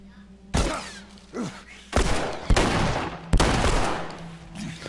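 Several heavy gunshots in The Last of Us video game, spaced irregularly as separate loud bangs with brief thuds between them.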